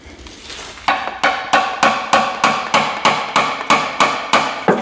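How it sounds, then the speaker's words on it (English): Sharp, ringing hammer blows on metal during an engine swap in a Chevy Silverado 4x4, about a dozen in a steady rhythm, loud and close, each strike fading quickly before the next. "Might need a freaking hammer."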